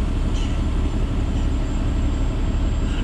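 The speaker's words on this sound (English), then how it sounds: "That's a train." A steady, loud rumble with a continuous low roar, like a train rolling past close by.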